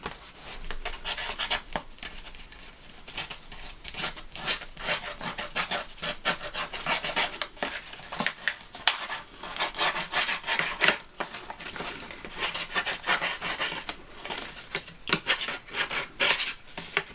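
A fingertip rubs repeatedly along the edges of a paper journal, producing close, dry scratchy strokes in an uneven rhythm of short bursts with brief pauses between.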